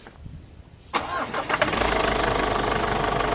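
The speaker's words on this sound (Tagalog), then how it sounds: "tsaka ako ngayon pa-start na itong makina" A Ford Everest with a 3-litre engine, just refilled after an oil flush, cranks briefly under the starter and then catches, settling into a loud, steady, close idle.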